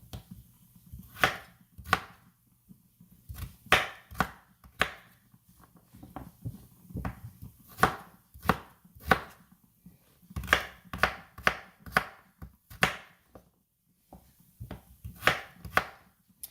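A sharp kitchen knife trims rutabaga on a cutting board in a home kitchen, with close crisp chopping strokes that fall in irregular clusters and short pauses.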